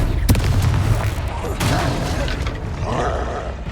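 Fantasy video game fire-blast spell bursts into a loud rumbling explosion with a sharp crack at the start and a rolling roar, followed by further booming blasts; sustained and close.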